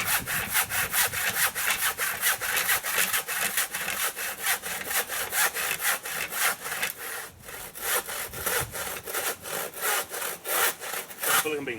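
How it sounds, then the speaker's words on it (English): A hand saw cutting through wood in steady, rhythmic back-and-forth strokes, loud and close, continuing without pause. "I am filming you doing some sawing, like a pro."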